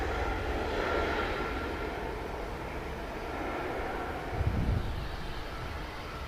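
Boeing 787 Dreamliner landing at Manchester Airport, a steady distant jet roar with a broad rushing wash that swells slightly around touchdown, heard from afar without talk.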